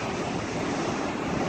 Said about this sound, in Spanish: Aquí es donde entran las olas, que luego salen por el otro lado. Mira, ahí viene una ola buena.